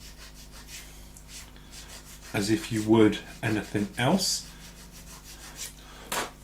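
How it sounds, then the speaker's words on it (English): Steady rhythmic rubbing of a coarse sanding sponge on a plastic 1/32 scale F-14D model kit part, close and moderately quiet, with someone speaking briefly over it midway. "you should be able to sand it a little bit with a coarser sanding sponge"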